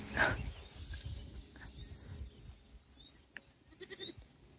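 Goats and young kids in a meadow, with one short, sharp bleat near the start, then faint rustling and a thin background of insects.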